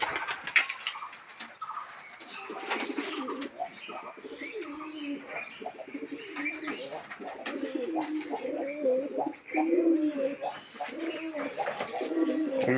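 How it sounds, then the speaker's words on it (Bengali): Pigeons roosting with their young chicks coo in low, repeated throaty phrases close by, with soft chirps and rustling, while a person talks now and then underneath. "পায়রাগুলো সব বসে আছে যে।"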